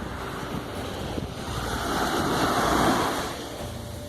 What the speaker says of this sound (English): who can visit Crete and not enjoy the beautiful sea and the sound of the waves?